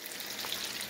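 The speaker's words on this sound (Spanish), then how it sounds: "aquí está ya friéndose la cebolla" Chopped onion and tomato fry in a pan while cooking mole, giving a steady, soft sizzling hiss with faint crackles throughout, close by and without talk.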